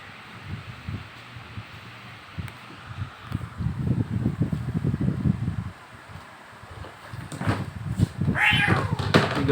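A cat meows a few times near the end, the cries fairly close above a busy backdrop of rustling, thumps and low noise.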